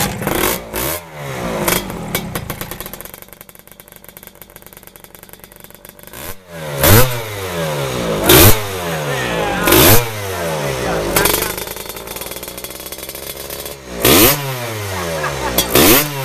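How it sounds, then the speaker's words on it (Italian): Motorcycle engine kicked over repeatedly, catching in a series of sharp revving bursts roughly every one to two seconds, each rising and falling, after an early stretch of muffled mechanical noise; a voice is heard in the background. "prova a mettere in moto, dammi la pedalata."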